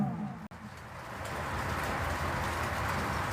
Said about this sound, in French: maintenant, c'est la pluie qui continue en fort